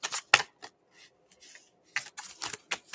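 Tarot cards get shuffled nearby in short, crisp riffling bursts separated by quiet gaps, soft and close, with no voices.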